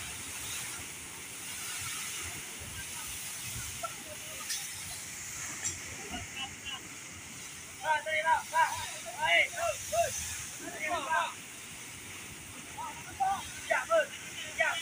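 A burning gas well in East Aceh hisses steadily while firefighters and police douse the blaze with water and extinguishing agent. The broad, continuous rush runs throughout, with scattered crackles and people talking faintly in the background.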